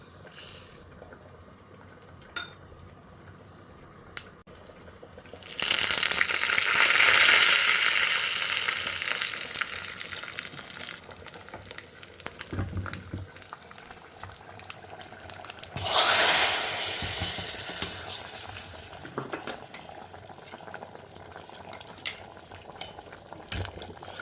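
Tempering spices hit hot oil and are poured into red amaranth leaf dal, bursting into a loud sizzle that fades and flares again, with clinks of utensils between.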